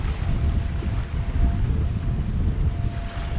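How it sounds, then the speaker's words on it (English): Steady wind gusts buffet the open air at sea on a sailing boat near Gran Canaria, a dense rumbling rush with low booming noise and no voices. "It's starting to get windy now as we get out of the lee of the island"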